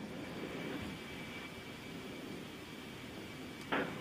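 Distant C-17 military transport jet taking off during a Humvee airdrop mission, a steady broad roar of jet engines held at an even level, with a short sharp burst near the end.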